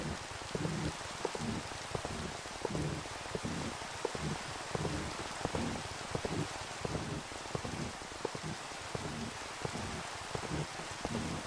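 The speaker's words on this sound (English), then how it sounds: "Man, that rain is so loud." Loud, steady rain falls continuously in the Minecraft video game, a dense hiss with scattered drop patter and a faint low rumble, with no voices.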